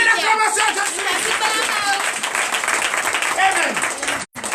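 A church congregation at a testimony service in Comè, Benin, erupts in acclamation, with many voices shouting and cheering together and scattered clapping. The dense, loud crowd noise is steady throughout and drops away briefly near the end.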